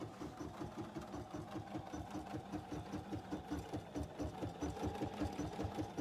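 A BERNINA embroidery machine stitches a garden flag, a steady rapid mechanical chatter of needle strokes in an even rhythm, close and continuous.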